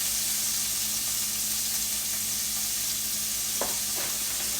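Frozen onions, about 74 grams, sautéing in a pan give a steady, close sizzle with continuous hiss and a couple of brief stirring scrapes near the end.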